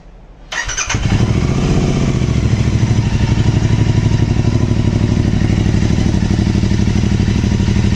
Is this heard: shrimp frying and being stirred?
no